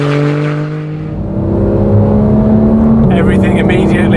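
A 2014 Porsche 911 GT3 engine drones steadily while driving, its tone holding and then stepping up near the end, loud and close with a rushing whir beneath.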